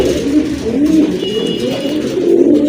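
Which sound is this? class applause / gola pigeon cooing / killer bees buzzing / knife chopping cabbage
gola pigeon cooing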